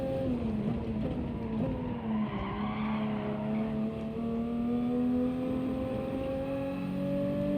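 A BMW and a Citroen race car in Gran Turismo, bunched up in a pack, give loud, sustained engine drones with rising and falling pitch through the whole stretch, plus some tire squeal.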